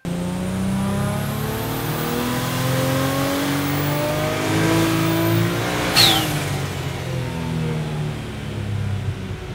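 A turbocharged Datsun 240Z engine revs hard on a dyno power run, climbing steadily through rising pitch for several seconds before a sharp high shift or boost release near the end, loud and close.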